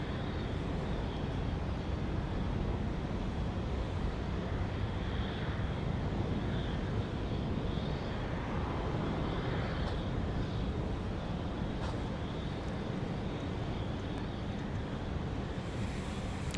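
Steady, loud roar of a Boeing 737-800 airliner at Dallas Love Field, a broad continuous engine rumble with wind-like hiss that holds evenly throughout with no talking.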